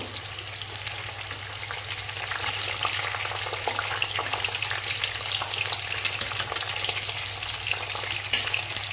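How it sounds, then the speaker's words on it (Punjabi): Okra pieces dipped in spiced yogurt and besan batter fry in hot oil in a pan, giving a steady, close, continuous sizzle and crackle throughout with no talking. "ਹੁਣ ਆਪਾਂ ਇਹ ਭਿੰਡੀਆਂ ਵੀ ਇਹਦੇ ਵਿੱਚ ਪਾਵਾਂਗੇ ਇਹਨਾਂ ਚੰਗੀ ਤਰ੍ਹਾਂ ਆਪਾਂ ਡਿਪ ਕਰ ਲਾਂਗੇ ਕਿਉਂਕਿ ਆਪਣੀ ਚੰਗੀ ਤਰ੍ਹਾਂ ਫਰਾਈ ਹੋ ਜਾਣਗੀਆਂ"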